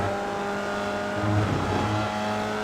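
A Formula Vee race car engine drones at full throttle in the iRacing sim at Virginia International Raceway North, a steady buzzing tone with a slight pitch swell, alone and without talk.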